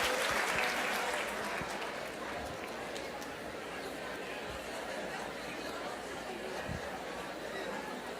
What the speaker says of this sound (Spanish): Un aplauso para ustedes, señores